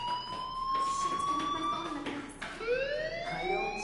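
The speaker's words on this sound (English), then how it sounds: "Hey, do you hear that fire alarm?" Fire alarm ringing inside a video game, sustained high electronic tones that hold steady and then sweep upward after a brief dip, loud and close with faint talk underneath.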